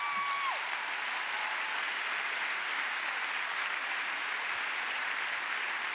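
An audience at a live stage show in a Kursaal hall breaks into dense, steady applause that holds at an even level throughout, with no voices over it.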